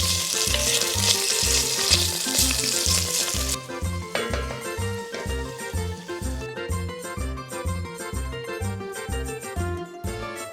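Chopped soffritto sizzles steadily in olive oil for ragù bolognese, the frying hiss loud and continuous, with faint stirring and clinks over it.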